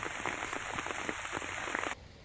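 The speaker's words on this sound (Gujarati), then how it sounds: "છોટાઉદેપુરમાં ધોધમાર વરસાદ." Heavy monsoon rain falls in Chhota Udepur, Gujarat, a dense, steady patter of drops on surfaces close by that cuts off abruptly after about two seconds, with no talking.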